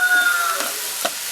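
Onions sautéing in a pan for Kerala-style meen polichathu give a steady close sizzle with a couple of soft stirring scrapes, heard alone.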